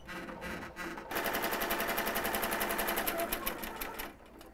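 An embroidery machine runs a straight stitched line to seal the raw edges of a stuffed toy, a fast steady needle chatter that starts abruptly after a brief pause and stops near the end, close and continuous with no talk.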